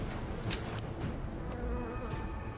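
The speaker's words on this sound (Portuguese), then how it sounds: "acaba assustando uma enorme colmeia de abelhas assassinas" A dense swarm of killer bees hums inside a cave, a steady loud buzzing drone with occasional sharper passes of individual insects, and no voices.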